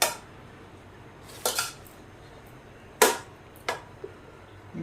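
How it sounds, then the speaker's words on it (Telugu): A spoon or ladle knocks sharply against a metal vessel while pulihora rice is mixed with turmeric. Four distinct clinks sound in an uneven rhythm, close and clear over a quiet kitchen background. "అట్లానే పసుపు కొంచెం, ఇదంతా నీట్గా కలిపేసుకోవాలి."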